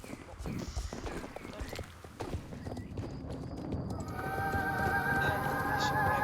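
A horse galloping in a video game, rapid rhythmic hoofbeats running steadily at moderate volume, with game music rising in the background toward the end.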